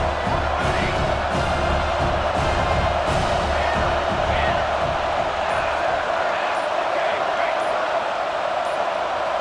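Steady, loud stadium crowd roar in College Football 26, a sustained wash of cheering and shouting that holds throughout, with voices talking underneath.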